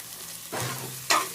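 Prawn curry masala being stirred in a pan, heard as two short scraping, slightly sizzling strokes a half-second apart, close and fairly quiet with no talk.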